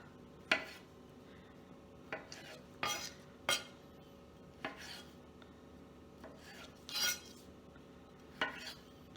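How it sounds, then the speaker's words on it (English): A knife cuts through garden tomatoes into quarters on a board, with sparse soft slicing and clinking knocks spaced a second or so apart in a quiet kitchen. "So go ahead, cut them in quarters."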